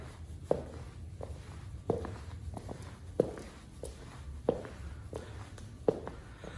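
Footsteps in Nike Metcon 6 training shoes on a hard floor, an even walking rhythm with a noisy, sharper heel strike every second or so, fairly close.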